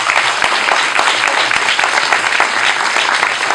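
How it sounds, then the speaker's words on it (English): A crowd applauds the panel at a webcomics convention session, loud and dense clapping from many hands sustained without a break. "Round of applause for everybody"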